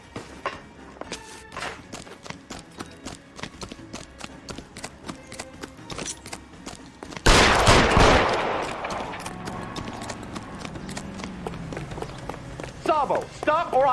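Quick footsteps run along in the 1940s Los Angeles crime game L.A. Noire, then a sudden loud burst of gunshots erupts midway, followed by more scattered shots and movement, with voices speaking throughout.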